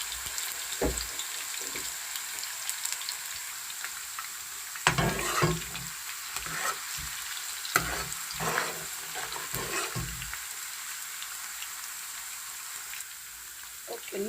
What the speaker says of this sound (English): now I will be adding my onions. Just add my onions.